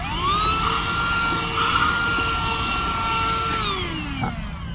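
A small handheld car vacuum cleaner runs steadily inside a car, a loud continuous whining motor tone that holds level for several seconds, then winds down as it switches off.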